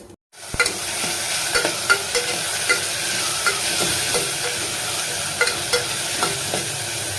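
Whole cumin and an onion, ginger, garlic and tomato masala sizzle steadily in hot oil, with repeated scraping stirs and small clinks of a spoon against the pan, close and continuous.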